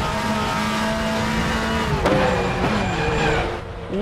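A Volvo race car's engine drones loudly and steadily at Mid-Ohio in Raceroom, its harmonic tone shifting with gear changes and a brief dip near the end, with tire noise underneath.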